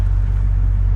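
A 1969 Lincoln Continental Mark III driving, its engine a loud, steady low rumble heard close up for about a second, with no change in pitch.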